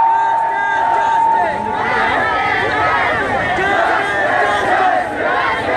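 A large crowd of Afghan refugee protesters outside a UNHCR office fills the air with loud, continuous shouting and chanting, a dense, steady roar of many voices close by, with a brief whistle-like tone near the start.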